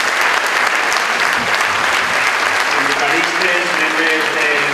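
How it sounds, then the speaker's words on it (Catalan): Sustained audience applause fills a hall at a political candidate presentation event in Vila-real, dense and steady throughout with a faint voice emerging near the end. "que puguem aplaudir des del cor"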